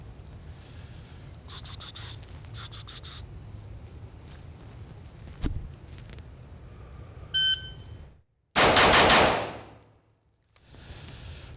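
A Glock pistol fitted with an aftermarket trigger fires one sharp shot, then a shot-timer beep sounds and a quick, loud string of close shots follows before the sound cuts off.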